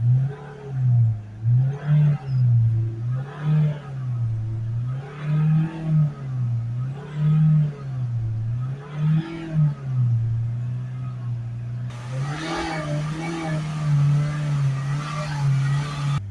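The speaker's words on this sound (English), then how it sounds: "Give it a few spike revs," A Ford S-Max 2.0 diesel with a blocked particulate filter is revved up and down in repeated spikes, about seven rising and falling engine surges close by, then settling into a steadier, higher hold with added rushing noise.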